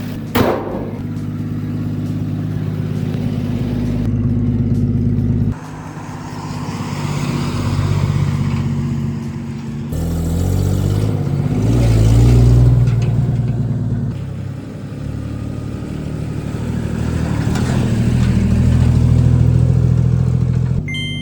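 A 1958 Chevy Apache truck drives on the street with its engine droning loud and steady, rising and falling as it accelerates and eases off, with wind and road rumble throughout.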